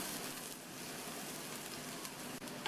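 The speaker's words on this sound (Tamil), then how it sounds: "இந்த தேங்காய் கலவையை எண்ணெயிலேயே 2 நிமிஷம் போல் வதக்கி விட்டுக்கணும்." A paste of coconut, cumin, green chilli and garlic sautés in oil for a turnip stir-fry, making a faint, steady hiss and crackle that runs without a break.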